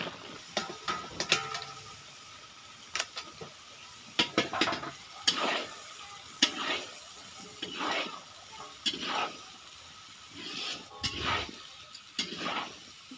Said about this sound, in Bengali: কাবলি ছোলা, বাদাম ভেজে গোটা, তারপরে দিয়েছি এমনি ছোলা। এগুলোকে কষিয়ে নিচ্ছি।